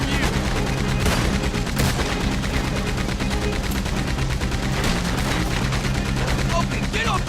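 Gunfire in Red Dead Redemption 2 during a train heist: rapid, continuous bursts of shots like a mounted machine gun, loud and dense throughout, with voices mixed in.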